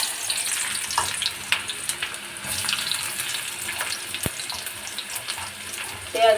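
Onions and crushed garlic hitting hot oil in a pan, a continuous close sizzle and hiss with a few sharp clinks of the utensil, no talking.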